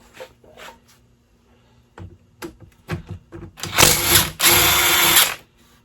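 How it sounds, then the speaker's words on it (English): Half-inch drive breaker bar with a 7/16 socket working head bolts off a cracked 1952 Johnson 5 HP outboard: scattered clicks and ratcheting scrapes, then two louder sustained grinding, creaking bursts near the end, close up with no talk. "I got the big boy here, half-inch drive with a 7/16 socket. Let's see if we can get them off."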